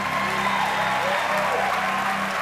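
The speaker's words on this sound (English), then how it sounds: "Come on, let me hear some applause." Studio audience at a quiz game show claps and cheers, a continuous roar of hands over the hum and music bed of the set, lasting the full couple of seconds without speech.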